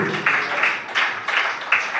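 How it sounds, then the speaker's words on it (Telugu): A church congregation claps in loud, rhythmic bursts, several sharp rounds of hand claps coming in quick succession across a couple of seconds. "గట్టిగా చప్పట్లు కొట్టండి."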